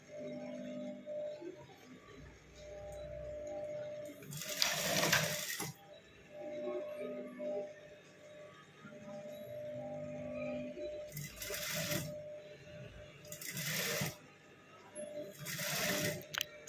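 A sewing machine stitches piping onto the lining fabric of a blouse, with several loud bursts of running stitches separated by quieter pauses of handling, close by.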